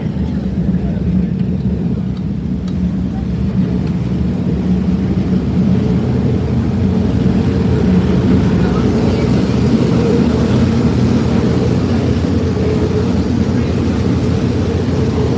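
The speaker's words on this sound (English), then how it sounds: "We're right behind the engine room here." Loud, steady low machinery drone from a boat's engine room, heard from just behind it on the lower aft deck, a continuous broadband rumble filling the whole stretch without pause.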